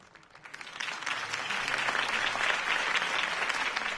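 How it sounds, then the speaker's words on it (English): Crowd applause after Harvey Dent's campaign speech in a Batman video game, building quickly from a soft start into dense, steady clapping that carries on evenly throughout. "If only Mr. Wayne, my campaign's largest backer, could have heard that applause"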